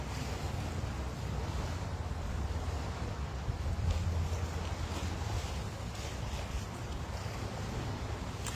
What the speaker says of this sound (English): Let me know if you can hear the sound of the water.